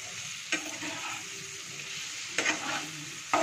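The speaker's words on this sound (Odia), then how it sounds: "ଚିନି ପକେଇକି ମୂଳା ଭାଜନ୍ତୁ" Radish with sugar frying in a pan, a soft, steady sizzle broken by a few sharp scraping stirs of the spatula, close and fairly quiet.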